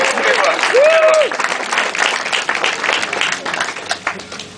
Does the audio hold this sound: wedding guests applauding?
yes